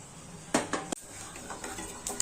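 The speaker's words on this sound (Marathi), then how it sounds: "चला आता याच्यात टाकू तीळ आणि खसखस." Sesame and poppy seeds are tipped into a hot roasting pan, giving a few close metallic clinks and scrapes followed by a soft, faint rustling sizzle.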